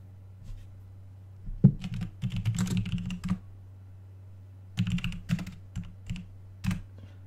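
Bursts of close, crisp typing on a computer keyboard come in two clusters of rapid keystrokes separated by a quiet pause, with no talking.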